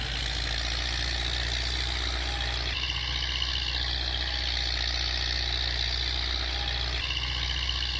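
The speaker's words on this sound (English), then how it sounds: "the tractor is struggling, might struggle going uphill" A small tractor in Farming Simulator 19 hauls a heavy load of firewood uphill, its engine droning loud and constant with a deep low rumble and a labored, steady tone that shifts slightly partway through.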